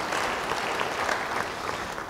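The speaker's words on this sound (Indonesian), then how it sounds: "Yang setuju beri tepuk tangan bagi dia." Church congregation applause, a brief steady wash of many hands clapping at moderate loudness with no break.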